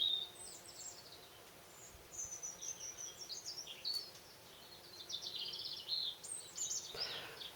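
Birds sing outdoors in a calm garden, faint high chirps and short warbling phrases scattered over several seconds above a quiet hiss of background air, with no talking.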